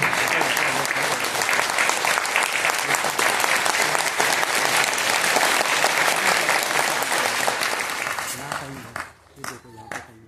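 An audience at a birthday speech event for Rajiv Dixit in Sevagram, Wardha, Maharashtra, claps loudly and steadily for about eight seconds, then the applause thins and fades into scattered final claps.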